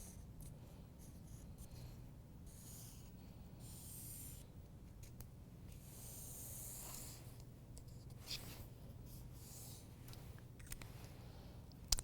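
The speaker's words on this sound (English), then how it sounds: "Placing a weight on it and tracing around." Pencil tracing around a paper dress pattern laid on a fold, a faint continuous scratchy rubbing with brief pauses and a small tap near the end, close but very quiet over low room hum.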